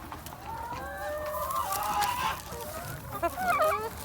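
Egg-laying hens on a small backyard farm, clucking and calling near and far in a steady, chattering flock with one sharper burst toward the end and no speech.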